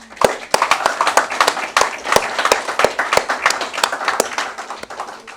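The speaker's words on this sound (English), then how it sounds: "So please take a bow and applaud yourselves." An audience at a volunteer service anniversary gathering in Samoa applauds itself, lively sustained clapping from many hands, close and fairly loud throughout.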